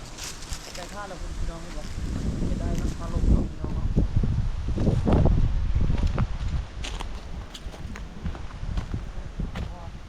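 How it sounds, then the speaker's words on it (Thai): Wind gusts outdoors on a cool evening near a cliff on a road trip in Thailand, a steady rushing rumble that buffets the microphone while people talk over it. "อากาศเนี่ยมันมีลม"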